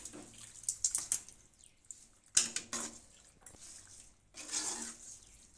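Water poured from a cup into a pan of chicken liver being cooked, with splashing bursts and clinks of utensil against the pan, close and moderately loud, no talking.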